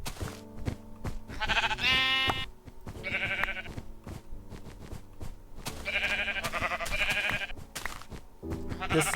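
Blocky sheep bleat several times in Minecraft Alpha, in a snowy world, with harmonic cries coming in bursts over game noise and speech.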